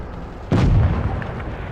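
A single deep, booming tank cannon shot from World of Tanks Blitz, loud and close with a short rumbling tail.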